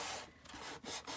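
Sandpaper rubbing across a playing card to distress and scuff its surface for a junk journal, a close, steady scraping in a few short strokes with brief pauses between, no voices.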